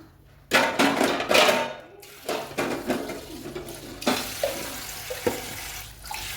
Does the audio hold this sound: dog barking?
no